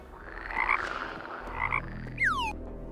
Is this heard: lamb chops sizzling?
no